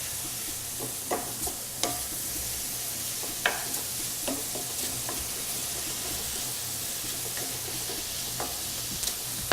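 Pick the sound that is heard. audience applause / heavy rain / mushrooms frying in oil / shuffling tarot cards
mushrooms frying in oil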